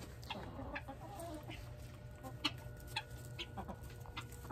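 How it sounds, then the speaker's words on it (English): Chickens cluck softly nearby, scattered low calls and a few sharper squawks over a quiet outdoor background. "Just got the chickens away for the evening."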